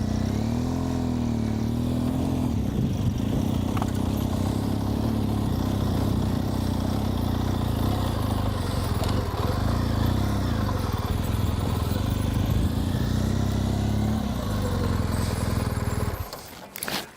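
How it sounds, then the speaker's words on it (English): A BMW adventure motorcycle engine running steadily during a hill restart, with a loud, close, sustained drone and slight rises as gas is applied, then cutting off abruptly at the very end. "I'm gonna release the clutch a little bit more and give it a little gas."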